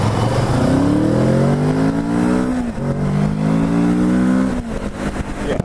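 A 2017 Kawasaki Z650 motorcycle engine revs and accelerates hard, its loud, close note climbing steadily, dipping briefly at a gear change, then rising again before easing off near the end.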